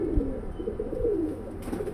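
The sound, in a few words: silver pigeon cooing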